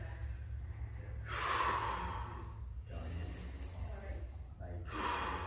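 Deep, slow breaths during a back stretch in child's pose: three long, close, airy exhales with inhales between them, heard alone.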